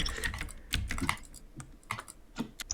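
Computer keyboard typing during a team gaming championship, with irregular bursts of clicky keystrokes close by and no voices.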